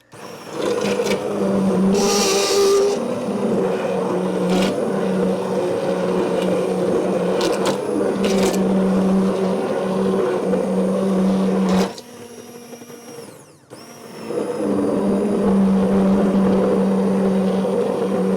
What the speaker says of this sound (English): I have my immersion blender, and you want to be careful because these cranberries are hot